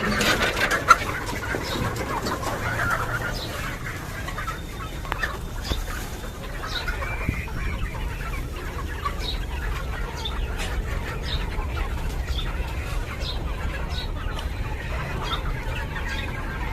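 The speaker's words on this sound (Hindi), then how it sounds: "ये तकरीबन जो है 100 से 125 मुर्गे हैं" Around a hundred chickens and roosters on a small poultry farm cluck and chirp continuously, a busy layered flock close by with scattered sharper calls rising over a rustling background.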